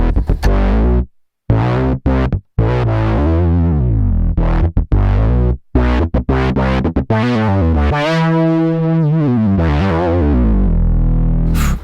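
Heavily distorted Prophet 6 hardware synthesizer tones play a chopped, rhythmic line with short gaps, then settle into sustained gritty notes, loud and upfront with no voices.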